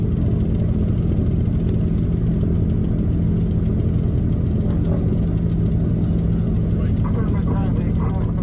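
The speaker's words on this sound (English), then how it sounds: "listen to that takeoff of those two radials, Pratt and Whitney" Twin Pratt and Whitney radial engines of a Lockheed Model 12 roar steadily at full power during a takeoff run, a loud continuous drone with a deep throbbing hum filling the cabin, with no pauses throughout.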